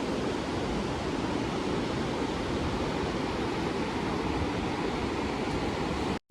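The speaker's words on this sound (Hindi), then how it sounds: "कितनी प्यारी आवाज़ थी ये पानी की" Steady rushing of river water flowing through the Manali mountains, a broad, constant roar with no breaks or voices, ending abruptly.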